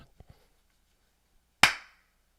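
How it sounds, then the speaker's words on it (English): A few faint small taps, then one loud, sharp hand clap close by that rings briefly into the room before fading, with no talking. "Disregard first clap."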